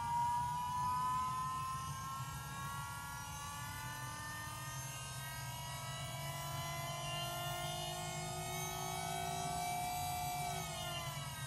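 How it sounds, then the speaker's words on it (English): Electric power steering pump fitted to a Porsche 911 conversion, whirring steadily as it climbs in pitch toward operating speed, a continuous close motor whine with rising tonal harmonics and no talk. "So you can see it slowly climbing to the operating RPM."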